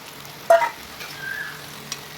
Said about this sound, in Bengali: আমি কেটে রাখা চিকেনটাকে এর মধ্যে দিয়ে দেবো